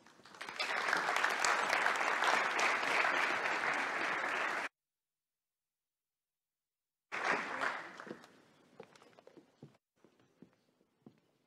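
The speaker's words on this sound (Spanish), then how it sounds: "Un aplauso para todos ellos." Audience applause for the panelists of a round-table discussion on space and economic growth, loud sustained clapping that cuts off abruptly, then resumes briefly and trails away into scattered claps and footsteps.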